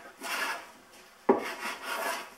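Hand plane taking aggressive cuts on wood while making furniture legs, a soft rasping stroke followed by a sharper, louder scraping pass, close and alone.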